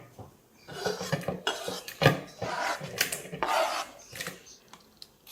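Knife chopping chili and tomatoes roughly on a board, a busy run of close knocks and wet cuts with small clatters, moderately loud and irregular.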